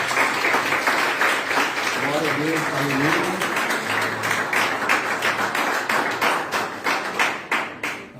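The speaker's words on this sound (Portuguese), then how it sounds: "Que as palmas louvem ao Senhor." A church congregation at an Easter Sunday service claps in a fast, steady rhythm, dense and close, with voices calling out praise over the clapping and the beat loosening toward the end.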